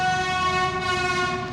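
A long, steady train horn blares loud and close with no break, set against faint rolling rail rumble, with no speech.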